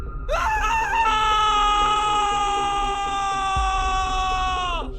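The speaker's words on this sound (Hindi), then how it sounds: "कमरा चीखों से भर गया।" A horror-story sound effect of screams filling a room: a loud, sustained, high-pitched wailing cry that rises sharply at the start and holds steady, with other voices faintly beneath it.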